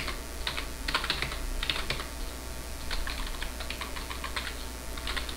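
Steady clacking of keys on a computer keyboard while a DNS zone-check command is typed in full, with bursts of rapid keystrokes separated by short pauses, close and moderately loud over a low steady hum.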